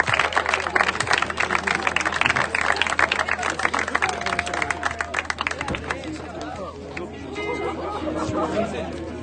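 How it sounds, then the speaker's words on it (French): A crowd at a 3x3 junior basketball final breaks into scattered clapping amid lively chatter and shouts, with the applause thinning into general hubbub. "On peut les applaudir aussi."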